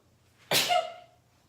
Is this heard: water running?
no